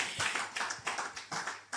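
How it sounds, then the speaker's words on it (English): A small conference audience at a Nigerian family wealth event claps for Wale Ibiemi, sparse and quiet, a handful of separate distinct claps in an uneven rhythm rather than a full crowd roar. "Please, a round of applause for him."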